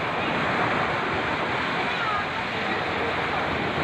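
Steady, broadband rush of sea waves washing onto a beach, continuous and fairly loud with no clear breaks, wind noise mixed in.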